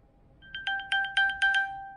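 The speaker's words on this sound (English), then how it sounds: "You can see it starts pinging my iPhone." An iPhone 13 rings out an electronic Find My alert chime triggered from a HomePod mini, a rising series of about six bright, clear tones repeating rhythmically and growing louder, close by with no talk.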